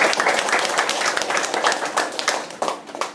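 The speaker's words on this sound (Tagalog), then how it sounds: "Sa malakas sa palakpak sa Diyos" Church congregation applauding loudly in praise to God, a dense, sustained burst of many hands clapping at once filling the room.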